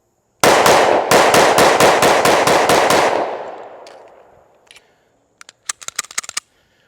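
A Springfield XDM Elite Compact 10mm pistol fires a fast string of about ten loud, sharp shots that ring out and fade into a long echo, followed by a few light metallic clinks.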